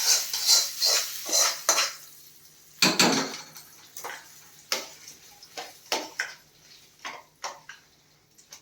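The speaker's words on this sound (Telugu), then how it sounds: "ఈ వంకాయ అంతా ఇట్లా మ్యాష్ అయిపోయిన తర్వాత దాంట్లో మనము ఈ పప్పు వేసేసుకోవాలి" Cooked eggplant is mashed for a chutney in a pot, a run of uneven scraping and tapping strokes from the utensil, close and fairly loud, with short pauses between bursts.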